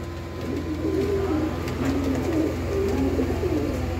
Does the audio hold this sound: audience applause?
no